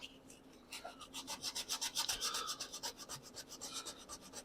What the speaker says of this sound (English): I got a little bit there that needs to be sanded